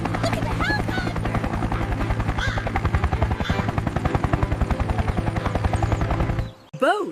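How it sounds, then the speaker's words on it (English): A helicopter flies close by with a loud, rapid rotor chop, the thudding beats growing stronger before cutting off abruptly near the end. "Look at the helicopter."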